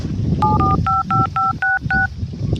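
A telephone is dialed with a quick run of about eight clear touch-tone beeps in steady rhythm, loud and near, over faint background noise.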